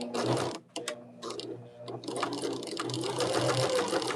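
Close, steady whirring of a sewing machine joining the first two columns of a ribbon quilt block, running almost without pause apart from a short stop early on, with faint voice sounds mixed in.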